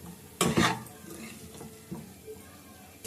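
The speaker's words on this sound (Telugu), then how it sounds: "ఈ చికెన్ కూడా కాసేపు మసాలా అంతా కలిసేటట్టు వేయించుకుందాం." Chicken pieces tossed with masala in a pan, a burst of stirring and scraping followed by a low, steady sizzle, close by.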